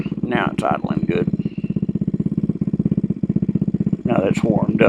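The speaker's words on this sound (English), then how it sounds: "Now that it's warmed up, it's idling correctly." A nitro RC car engine, warmed up, idles with a steady, rapid putter, running evenly throughout, with a voice speaking briefly near the start and again at the end.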